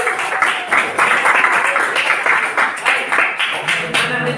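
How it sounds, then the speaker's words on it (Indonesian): Loud, steady clapping from a group during a class lesson, with dense, rhythmic claps running continuously. "Tepuk tangan untuk kita semuanya."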